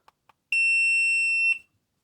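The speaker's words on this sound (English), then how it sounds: "Why is it beeping?" A single sustained electronic beep from a GoPro Hero 11 Black camera under repair, loud and piercing for about a second, follows two tiny clicks, then silence.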